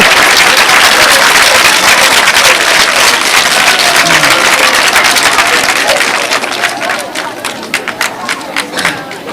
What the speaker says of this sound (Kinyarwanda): tubaha ikaze, tubaha amashyi menshi cyane